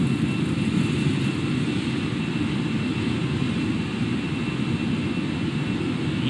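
An airliner's jet engines roar at takeoff power in Microsoft Flight Simulator, a steady, dense, loud rumble holding constant throughout.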